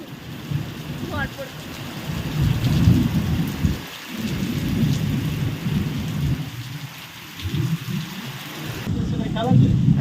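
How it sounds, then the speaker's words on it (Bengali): Rain falls steadily with low thunder rumbling through, a dense wash of drops on surfaces, with faint voices briefly audible beneath the downpour. "এখন একটু কম হচ্ছে তখন প্রচুর জোরে বৃষ্টি হচ্ছিল"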